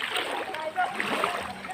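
Young people bathe in a clear provincial river, sending up scattered splashes of water under nearby voices.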